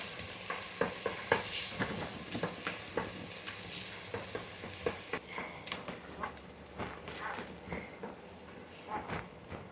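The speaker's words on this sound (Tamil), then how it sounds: "வெங்காயம் செந்நிறமாக மாறிடுச்சு, நல்லா வதங்கிருச்சு." Sliced onions sauté in a pan for chicken biryani, a soft continuous sizzle broken by repeated scraping stirs of a spoon against the pan, close and fairly quiet, with no talking.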